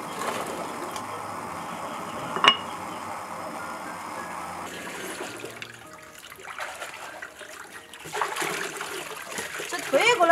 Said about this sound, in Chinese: 加水